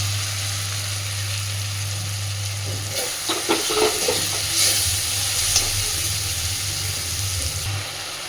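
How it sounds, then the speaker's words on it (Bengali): Dry-roasted moong dal and slit green chillies stirred through spices in a pan, with a run of spatula scrapes and knocks over a sizzle after a steady background hum, close and alone. "এবার ডালটাকে এই মশলার সাথে মিনিট 2-3 একটু ভালোভাবে নাড়াচাড়া করে নেব।"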